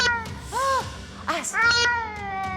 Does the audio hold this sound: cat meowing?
yes